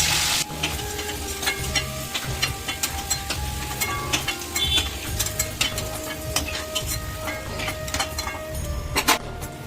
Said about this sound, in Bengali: এরপর কড়াইয়ে আলুগুলো ভাজা হয়ে গেলে লাল লাল করে আলুগুলোকে ভেজে একটা বাটিতে তুলে রাখবো